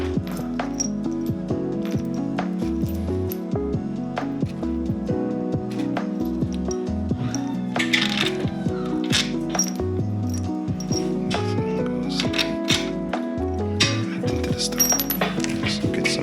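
Metal bolts for a Datsun 240Z engine swap clink and rattle as they are laid out on a surface, with repeated close, bright metallic taps and jingles throughout.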